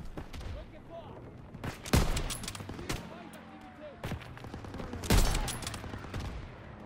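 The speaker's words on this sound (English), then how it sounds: "This thing is hard as hell to shoot." Gunfire from a weapon in the World War II shooter Call of Duty WWII, several sharp shots and short bursts spaced a few seconds apart over a busy, noisy battle background.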